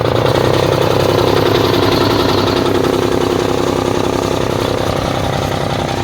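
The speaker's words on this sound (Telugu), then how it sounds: "మిషన్ వేసేసి ఒకసారి నేను మిషన్ స్టార్ట్ అయినప్పుడు మాట్లాడనీకి రాదు." A Kisan Agros chaff cutter machine runs with a steady, loud mechanical engine-like drone and rattle that stays constant and close throughout, with no talking.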